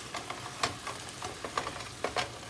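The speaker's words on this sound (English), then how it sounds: "we're just gonna brown our ground beef up really good" Ground beef browning in a pan gives a steady, soft sizzle with small crackles and pops scattered throughout, fairly quiet and close.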